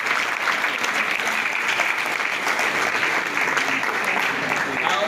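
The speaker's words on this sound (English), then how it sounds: "I want to have you all join me in applauding the team who's done all this great work" Dense, steady applause from an audience at a Sierra Leone launch event for a healthcare app, continuous clapping that holds at an even level throughout, close and fairly loud.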